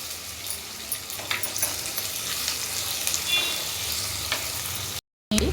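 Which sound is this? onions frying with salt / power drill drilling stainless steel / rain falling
onions frying with salt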